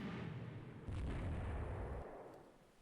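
Naval gunfire and a torpedo hit in the naval strategy game Rule the Waves 3: a heavy low rumbling boom swells up partway through, sustains as a deep roar, then fades out.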